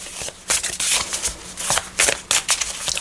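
Oracle cards are shuffled by hand in a quick string of papery riffles and slaps, close and crisp, with no talk over them.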